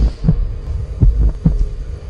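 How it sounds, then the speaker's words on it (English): A heartbeat sound effect from a film trailer throbs with deep, booming thumps in a slow, steady rhythm, loud and close. "There is a section where the sound of a heartbeat comes on."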